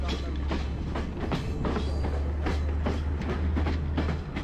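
Train running on rails from Kandy to Nuwara Eliya in Sri Lanka, a steady loud rumble with repeated clickety-clack wheel beats and carriage rattle, heard close from aboard with no talk over it.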